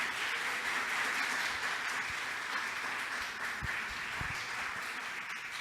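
Audience applause at a community event in Ibagué, Colombia, steady and full for several seconds, a dense crowd clapping with no voices on top.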